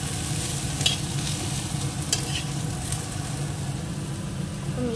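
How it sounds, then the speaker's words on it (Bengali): Pointed gourd (potol) fries in a pan with a steady, close sizzle, punctuated by a few sharp scrapes of stirring, while a low background hum runs beneath. "যে পটলগুলো লাল লাল করে এইভাবে ভাজা হয়ে গেছে।"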